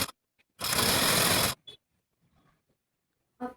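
A sewing machine stitches fabric in a home, one loud buzzing run of about a second, followed by brief clicks and handling noises in quiet surroundings.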